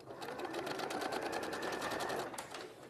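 A sewing machine stitches a neckband seam with a 1.5 seam allowance on an interfaced neckband, running as a steady, close whir with a fast needle rhythm for the whole stretch.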